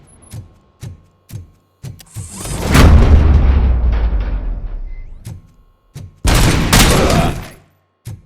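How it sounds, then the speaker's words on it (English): A burst of sharp gunshots followed by a long rumbling blast, then more rapid bursts of gunfire, loud and close with brief silences between, in the video game RoboCop: Rogue City. "Am I hearing gunshots?"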